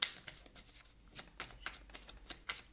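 Tarot cards are shuffled by hand in a quiet room, a series of crisp, close riffling bursts repeating every fraction of a second with soft pauses between, no one talking.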